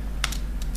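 Scissors snip through a sheet of paper folded into eighths while cutting out a small rectangle, giving a few crisp, separate clicking cuts in a quiet room.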